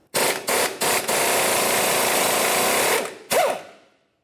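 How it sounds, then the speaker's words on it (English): A power tool, likely an impact wrench, spins a 21mm socket to remove the outer tie rod end nut on a 1994-2002 Dodge Ram 2500 front knuckle, with several short bursts and then one long sustained run, loud and close. "you'll use a 21mm socket to remove the nut"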